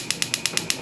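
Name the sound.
Haier gas range burner igniter clicking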